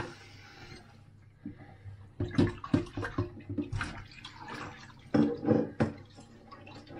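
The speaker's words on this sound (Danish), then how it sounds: "Jeg skal have lidt koldt vand i." Water runs from a kitchen tap into a pot, splashing and gurgling in uneven bursts as the flow strikes the pot, with a softer hiss between the louder splashes.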